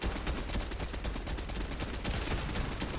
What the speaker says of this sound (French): Là dedans, ça tire.